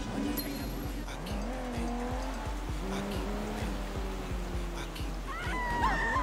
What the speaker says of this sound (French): Oh, elle a de la pêche, leur bagnole, hein.